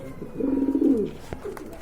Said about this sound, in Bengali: আরেক জোড়া কবুতর ভাই দেশি কবুতর না